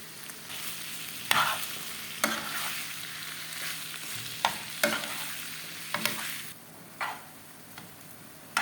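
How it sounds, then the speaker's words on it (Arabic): Fish filling is sautéed in butter in a pan for a fish pastilla, giving a soft sizzle with sharp scraping stirs at irregular intervals, close up and with no talk. "هنايا درت الزبده وغادي نعاود نشحر عاوتاني بنفس الطريقه"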